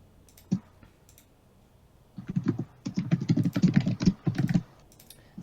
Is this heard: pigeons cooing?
no